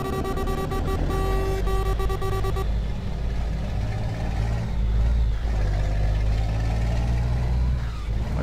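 A Scania R-480 road train in a truck driving video game roars with a steady, loud mid-range engine drone, preceded by a brief stretch of tonal music-like hum before the engine sound continues alone.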